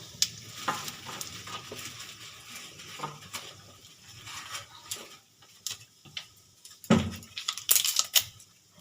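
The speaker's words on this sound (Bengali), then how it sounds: "আমি এই যে ফোড়নে দিলাম দুটো শুকনো লঙ্কা পাঁচ ফোড়ন আর রাঁধুনি দিয়ে দেবো একটা তেজপাতা" Dried red chillies, five-spice, radhuni and a bay leaf sizzle and crackle in hot oil while being stirred for a Bengali shukto, with intermittent scraping and a louder burst of spitting near the end.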